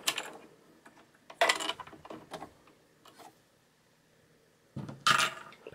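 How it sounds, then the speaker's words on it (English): Small clicks and metallic taps from a bobbin being taken out of a sewing machine's bobbin casing, a few scattered knocks and rattles with quiet pauses between them, close and fairly soft. "I'm going to take out my bobbin."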